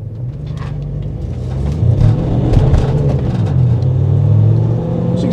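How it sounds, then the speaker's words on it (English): A Ford Transit Custom RSV Sport van pulls away and accelerates, its engine a deep, rising rumble heard from inside the cabin, loud and steady with no talk. "I just want to demonstrate how good this is at pulling away."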